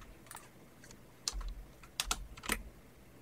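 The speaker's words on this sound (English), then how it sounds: "I'll press a tab and then type a word." Several short bursts of keystrokes on a computer keyboard, pressing tab and typing a single word, with clear clicks separated by pauses and no talk.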